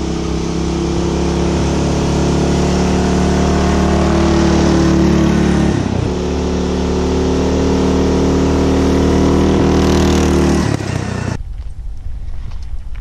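Homemade party bus driving fast at about 35 miles per hour with its governor pulled back, its engine droning loud and steady with a brief dip in pitch, then cutting off abruptly near the end.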